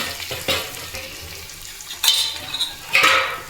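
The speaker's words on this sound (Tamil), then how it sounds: "சிக்கன் தான் பொரிச்சிட்டு இருக்கோம்." Oil crackles and sizzles as chicken 65 fries, with stirring scrapes and a few louder bursts of spattering; no one speaks.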